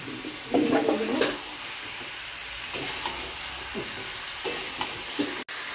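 Chicken sautéing in a spice masala, with a close, steady sizzle broken by a burst of stirring and scraping near the start and occasional utensil knocks later.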